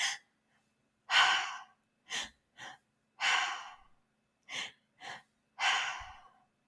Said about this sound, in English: you breathe into your chest, and then you let it out through your mouth